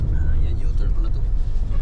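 A car engine rumbles low and steady while the vehicle makes a U-turn in city traffic, with a muffled cabin drone throughout.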